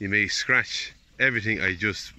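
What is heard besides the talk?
None of the usual background noises is heard.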